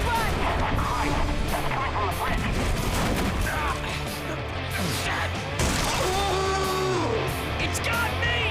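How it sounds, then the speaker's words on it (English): Dense video game battle sound from a bombing run: booming explosions and crashing blasts pile up loud and continuous, mixed with gunfire and shouted voices throughout. "Stop the bombing run!"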